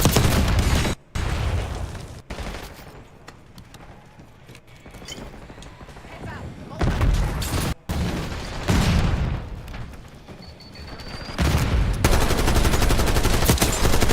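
Call of Duty gameplay with a flashbang and gunfire: loud bursts of rapid shots and sharp bangs, separated by brief silent gaps where the flash cuts the sound, ending in sustained heavy firing.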